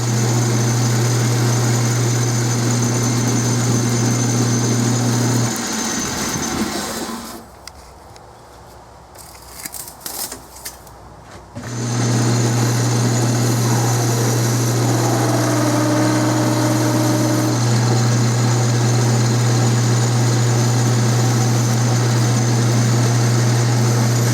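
A metal lathe turning 4140 steel hoist pins gives a loud, steady machine hum with a tonal whine. It drops out for several seconds of quieter clatter and then returns at full level. No one talks.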